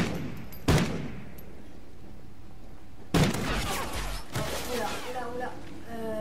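Single gunshots from a video game weapon ring out as sharp, loud cracks, one near the start and another about midway, followed by more shooting and clatter over steady game background noise.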